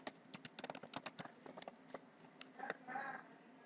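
Quick bursts of typing on a computer keyboard while entering a folder name at a command prompt, rapid close key clicks that thin out toward the end, quiet overall.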